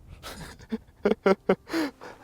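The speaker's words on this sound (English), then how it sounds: "Whose dog is that?" A dog pants in quick, breathy bursts, several short puffs close to the microphone, heard alone with no talk, on a day of travel heading south.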